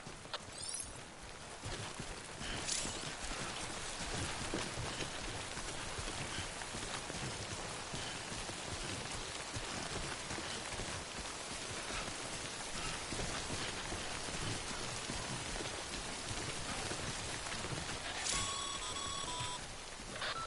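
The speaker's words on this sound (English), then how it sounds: "Don't stay out in the rain any longer than you have to." Steady, dense rainfall in Death Stranding, the game's timefall, pattering evenly and continuously on surfaces throughout with no letup and no voices.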